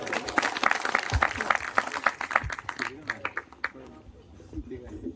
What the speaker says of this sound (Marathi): एकदा जोरदार टाळ्या होऊ द्या